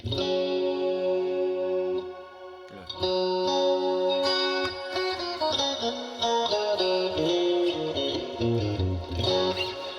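Guitar chords and arpeggiated notes ring out with a lush, bright reverb tail that blooms and lingers between notes.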